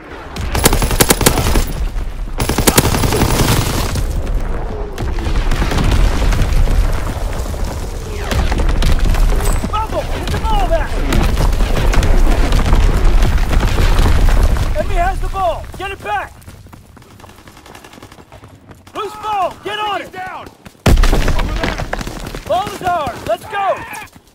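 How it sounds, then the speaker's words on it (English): Incoming artillery explosions in a Call of Duty WWII battle, heavy booms and rapid gunfire loud and close, with shouted voices and a quieter lull before blasts resume. "Incoming enemy artillery! Get to cover!"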